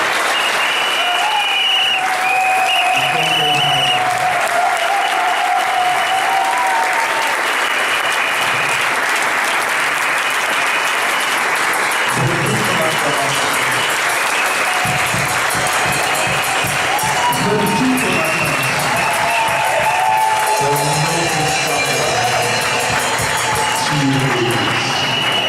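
Church congregation applauding, sustained loud clapping from a large room lasting the whole stretch, with cheers and a preacher's voice and music running underneath.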